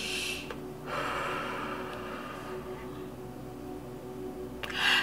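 Deep, audible breaths drawn in and let out slowly, close to the microphone, with a sharp gasping inhale at the start and another near the end, no speech.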